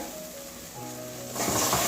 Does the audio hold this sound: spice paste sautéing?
yes